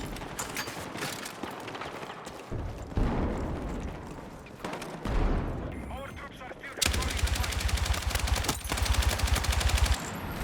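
Gunfire from a weapon in the video game Battlefield 6, with bursts of rapid shots and a long sustained automatic volley toward the end, heard over game noise and occasional talk.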